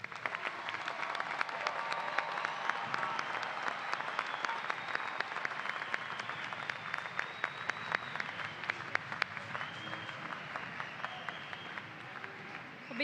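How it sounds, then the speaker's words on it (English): Sustained applause from a crowd honoring graduates at a spring technical college commencement ceremony, steady dense clapping throughout at moderate distance with faint voices mixed in. "offering them a round of applause"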